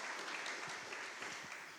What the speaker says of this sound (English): So a round of applause for you all to start this morning all together.